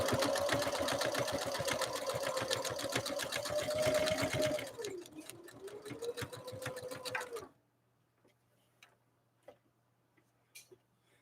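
A Husqvarna Viking sewing machine runs a decorative stitch, a fast even whirring chatter of the needle that slows and changes pitch, then stops, leaving a few quiet clicks and taps.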